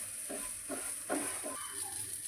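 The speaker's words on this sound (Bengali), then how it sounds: "এটাকে একটু এবারে ভাজা ভাজা হবে" A vegetable and wheat-flour batter flatbread fries in oil in a pan, a faint continuous sizzle with a few short bursts of spitting as it cooks.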